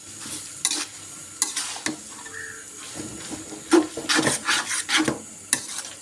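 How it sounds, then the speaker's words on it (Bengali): Handmade noodles are stirred in a pan with cheese. The sound is a series of close scraping, rasping strokes of a spoon or spatula over a low sizzle, with a denser burst of stirring midway. "এখন এটা আমি সুন্দর করে নাড়াচাড়া করে দিব"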